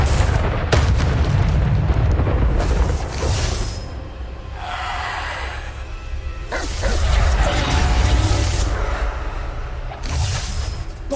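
Repeated Bombarda spell blasts in the Hogwarts Legacy video game, loud booming bursts with whooshing tails recurring every few seconds over a dense, continuous battle din.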